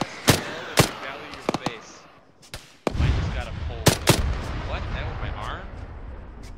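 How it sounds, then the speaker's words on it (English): Arma 3 video game gunfire cracks out in several sharp, loud shots, some in quick pairs, then a heavier burst with rumbling echo and scattered further shots. "I'm taking fire."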